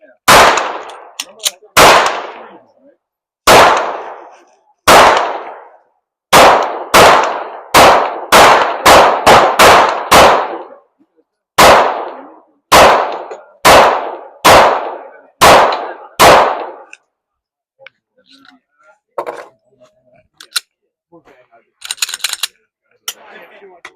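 Gunshots at a shooting range from a gun fitted with an ALG trigger, a string of loud sharp reports in uneven rapid bursts, then quieter handling clicks and a brief spoken word.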